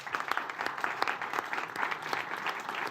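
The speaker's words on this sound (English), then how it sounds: "Please give a round of applause for Mikaela Shiffrin." An audience at the FIS Alpine race talk event in Sölden, Austria, applauds skier Mikaela Shiffrin with a steady, moderately distant round of clapping that lasts about three seconds.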